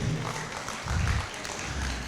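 Audience applause at an 80th birthday celebration, a steady wash of many hands clapping in a hall, dense and continuous with a slight swell midway, fairly loud throughout.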